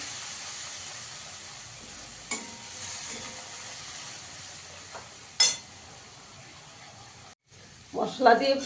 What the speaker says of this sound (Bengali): ভালো করে মশলাটাকে কষিয়ে নিতে হবে।